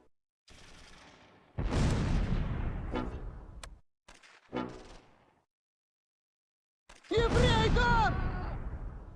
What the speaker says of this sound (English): The mortar opens fire.